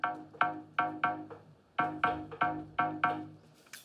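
Electronic bass line taken from a sample pack, playing a punchy repeating pattern of short notes in a steady rhythm with a brief pause midway, loud and close with no voices over it.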